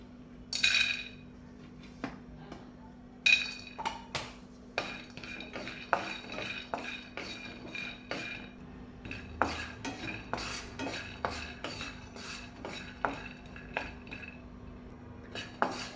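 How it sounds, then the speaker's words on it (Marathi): Peanuts roast in a pan in a home kitchen, with repeated scraping and clinking of a metal spatula stirring them over a faint background sizzle, in irregular strokes and no talking. "आता आपण त्याच्यामध्ये शेंगदाणे भाजून घेऊ."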